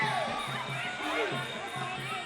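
Fans roar and cheer at a Muay Thai boxing fight, a steady, dense crowd din with higher-pitched voices rising and falling, continuous throughout.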